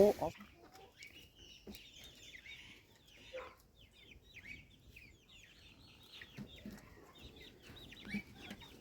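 Backyard chickens cluck and chirp faintly in the background, scattered calls continuing throughout at a low level.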